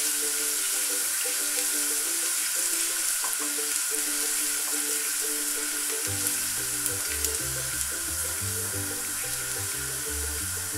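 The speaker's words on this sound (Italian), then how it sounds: "Arrivata a temperatura aggiungiamo l'aglio e lasciamolo dorare qualche secondo." Finely chopped garlic sizzles steadily in hot oil in a pan, a continuous close crackle with a few light stirring scrapes and clinks.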